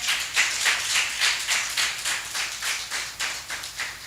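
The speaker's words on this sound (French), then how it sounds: "Sous vos applaudissements, s'il vous plaît." An audience claps to welcome a guest onto a French-language talk programme, a steady run of fairly quick, even hand claps from a modest crowd, moderately close and without talk.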